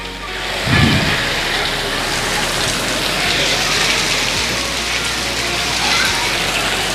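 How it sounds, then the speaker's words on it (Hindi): Heavy torrential rain pours in Karachi, a dense steady roar of downpour on surfaces filling the whole stretch, with a brief low thump near the start. "कराची में तेज़ बारिश हो रही इस वक्त"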